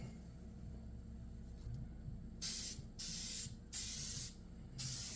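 Spray gun laying a wet glossy coat on a first-generation Chevrolet S10 door panel, close and loud, four separate hissing bursts of about half a second to a second each, with faint room noise in the gaps.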